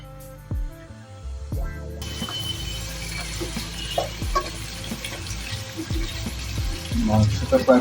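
Meat and spices for Shahi rezala braise in oil in a pan, giving a steady close sizzle and bubbling with occasional stirring scrapes and clinks, growing slightly louder toward the end.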